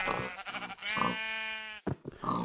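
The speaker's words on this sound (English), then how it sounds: "Here I have my sheep farm." A sheep bleats loudly and up close in the Minecraft video game, two wavering harmonic bleats with the second held long, followed by a shorter bleat, no talk over it.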